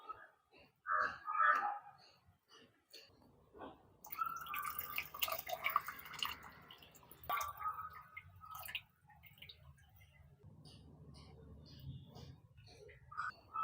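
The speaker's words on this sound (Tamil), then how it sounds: "இப்போ புளி தண்ணியை ஊற்றியாச்சு" Tamarind water pours and splashes into a pot of sardine curry for several seconds, a steady wet gurgle with faint background clatter and a short voice early on.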